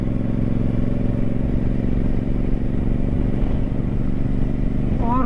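A Royal Enfield Super Meteor 650 cruises on a highway through hills, with a loud, continuous engine drone and heavy wind rumble that hold steady throughout.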